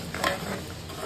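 Ground masala frying in a pan for a Maharashtrian peas and potato rassa curry gives a short burst of close sizzling with a scrape of stirring and no talk.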